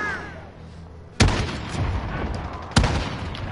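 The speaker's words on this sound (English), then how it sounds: "I missed all of those shots." Two heavy gunshots ring out in Call of Duty Modern Warfare about a second and a half apart, each a sharp, loud blast with a booming tail over low game ambience.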